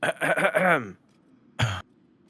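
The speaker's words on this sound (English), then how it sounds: "Clear your throat." In the video game Baldur's Gate 3, a short bit of speech is followed by a single brief, throaty clearing sound up close, then quiet.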